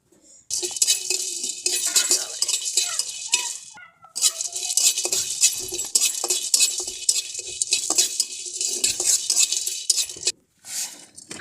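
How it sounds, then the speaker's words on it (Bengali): Cloves, black pepper, cinnamon and cardamom dry roasting in a pan for Lahiri chicken, a steady close rattle and scrape of whole spices stirred around the hot metal, continuous with a brief pause, no talking. "লবঙ্গ গোলমরিচ দারুচিনি ও এলাচ এইগুলো আমরা হালকা করে ভেজে নিব শুকনো খোলায়"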